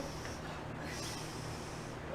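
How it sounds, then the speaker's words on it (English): A performer on an improv comedy game show sniffs steadily to smell out a hidden prize, a continuous breathy rush of air through the nose lasting a couple of seconds with no talking. "Now start sniffing"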